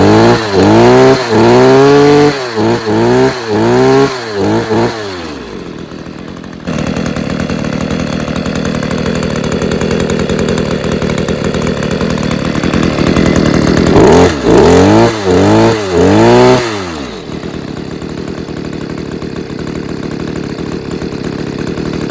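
A refurbished Stihl KM94rc engine runs loud and close, with a series of sharp rising revs, then a steady, held higher-speed drone. A second cluster of quick revs follows before it settles back to a quieter idle.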